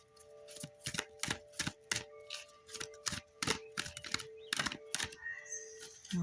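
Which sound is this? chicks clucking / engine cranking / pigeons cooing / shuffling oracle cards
shuffling oracle cards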